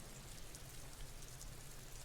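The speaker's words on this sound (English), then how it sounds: "And it's raining." Steady rain falls in the Disco Elysium game, a soft, even patter and hiss of drops filling the whole stretch at low volume, with no voices.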